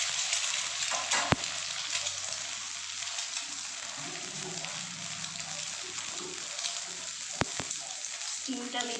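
Egg omelette frying in hot oil in a home kitchen pan, a steady close hiss of sizzling over the whole stretch, with two sharp clicks of a spatula or utensil breaking through it.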